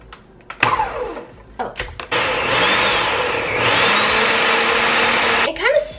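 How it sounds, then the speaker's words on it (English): Cottage cheese pancake batter whirring in a blender: a few short pulses, then a sustained loud motor drone that shifts pitch midway and stops abruptly, with brief voices around it. "Blend it all."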